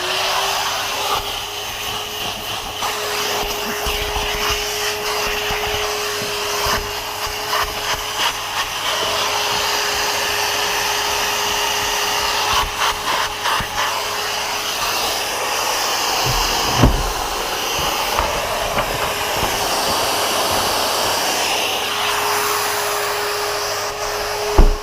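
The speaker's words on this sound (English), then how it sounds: "Just do a little bit more vacuuming." A vacuum cleaner runs steadily and loudly while cleaning the seats inside a Volkswagen Golf R wagon, with a constant whine and a faint shift in pitch as the nozzle moves over the upholstery. Nobody speaks.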